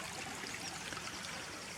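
Shallow stream water flows over pebbles near Janet's Foss waterfall, a steady close babble and trickle with no voices.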